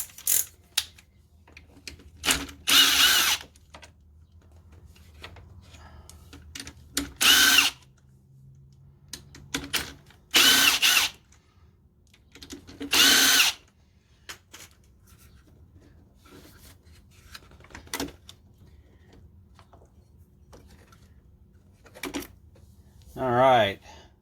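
Power tool with an 8mm socket backing out valve cover bolts on a Harbor Freight Predator 3500 inverter generator, several short separate whirring bursts with quiet gaps between, close and fairly loud.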